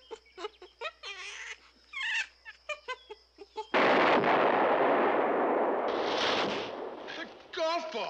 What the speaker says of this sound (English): A golf ball! It exploded!